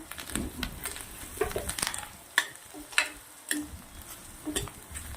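Green peas go into a Bihari-style okra curry cooking in a pan, bringing a soft sizzle with scattered clinks and scrapes of stirring, close and moderately loud.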